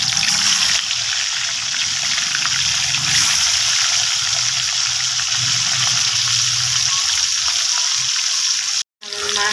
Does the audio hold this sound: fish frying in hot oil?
yes